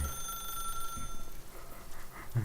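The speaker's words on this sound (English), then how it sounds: "Wir sollen ans Telefon gehen." In The Stanley Parable, a telephone rings quietly and steadily for a couple of seconds under low background sound.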